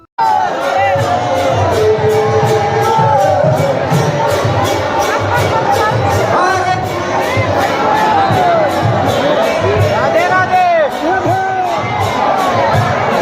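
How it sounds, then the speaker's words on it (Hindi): A dense, loud crowd at a boat festival in Vrindavan, with continuous cheering, shouting and babble of many voices, including children, rising and falling throughout. "फिर हम लोग इस भीड़ में घुसकर बोट फेस्टिवल नौका त्योहार देखते हैं"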